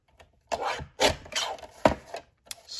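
Someone trims the edge of a master board with a quiet run of short rasping, scraping strokes, about five in all with brief gaps between them, and no one talks.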